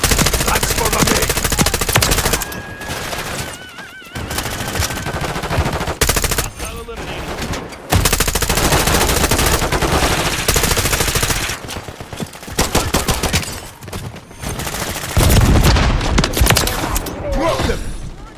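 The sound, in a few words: gunfire in video game Wuthering Waves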